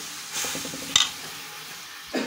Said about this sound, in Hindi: अब इसके अंदर टमाटर ला के डालती हूँ